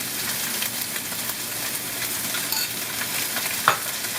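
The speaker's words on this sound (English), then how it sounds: "Add that in 8 ounces of noodles, by the way. And then the sauce, 2 tablespoons of the sauce." Rice noodles with sauce being stir-fried for Pad Kee Mao, a steady loud sizzle and hiss with scraping stirs throughout, no voices.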